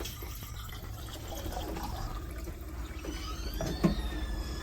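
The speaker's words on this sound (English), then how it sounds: "we're going to fill this all the way up with water" Tap water runs steadily into a container to fill it all the way up, a continuous close rushing and gurgling with a small clunk near the end and no talk.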